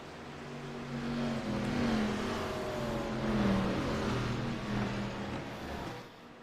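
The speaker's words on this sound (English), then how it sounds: "So Carl's going to have to watch the wheel spin here." Race cars in a throwback cup series accelerate on a restart, engines swelling and roaring together in waves as they build speed, loud and close before easing off.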